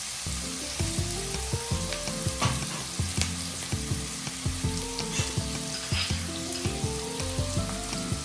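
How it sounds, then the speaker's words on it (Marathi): Onions frying in a pan with black pepper and bay leaf for a vegetable biryani, with ginger-garlic paste about to go in: a loud, steady sizzle with regular scraping stirs, close up and with no voices. "जसं असं हा कांदा शिजेल थोडं गोल्डन ब्राऊन होण्यापर्यंत, तर आपण टाकणार आहोत आलं लसूणची पेस्ट"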